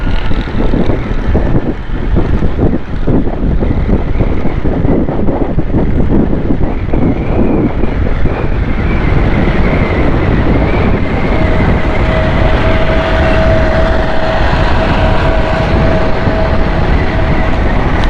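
Loud, constant wind buffeting and engine rumble from a motorcycle moving across a long bridge in Karachi, a steady roar throughout with a faint whine joining partway through.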